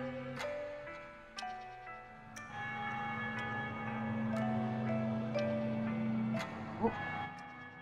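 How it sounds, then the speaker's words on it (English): Church bells in Super Paper Mario ring out in a soft, melodic peal, several struck tones overlapping and sustaining over a steady hum, with no voices. "I hear bells. How lovely!"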